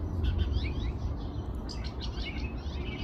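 A red-headed finch chirps in a pear tree, quick bright tweets repeating in short clusters over steady outdoor background noise, fairly close and clear.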